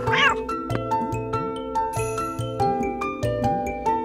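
Cartoonish cat meows from the video game Balthazar's Dream, repeated over a jingly game soundtrack, with a brief squealing meow near the start and several more following at a steady rhythm.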